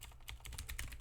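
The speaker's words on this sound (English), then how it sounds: "we can just type in the prompt also" A quick, steady run of close keystrokes on a computer keyboard while a text prompt is typed into an AI image tool, soft and even, with no speech.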